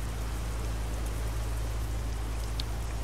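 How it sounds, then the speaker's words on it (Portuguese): Steady, dense rain from the weather effect in Euro Truck Simulator 2 hisses continuously, with a low engine-like hum underneath and no talking. "Número 1 faz chover no mesmo momento."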